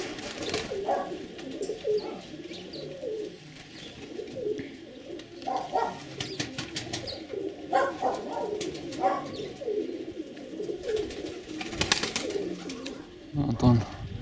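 Performing pigeons of a high-flying show breed cooing in soft repeated bursts close by, with someone talking over them.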